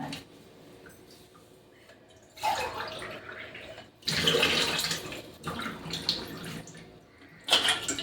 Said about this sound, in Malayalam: ഇതിലേക്ക് ഞാനിപ്പോൾ ഇതേ ഗ്ലാസ്സിന് രണ്ട് ഗ്ലാസ് വെള്ളം ഒഴിച്ചു കൊടുക്കാൻ പോവുകയാണ്